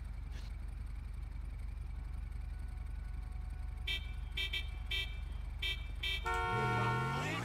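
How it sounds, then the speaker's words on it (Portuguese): A car horn honks in a GTA 5 street scene at a traffic light, several short blasts followed by a longer held honk over a steady low engine rumble. "o cara tá buzinando pra mim"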